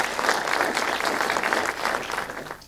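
A seated audience applauds a speaker after a running-themed talk at a public speaking night, dense steady clapping sustained for a few seconds before tapering off.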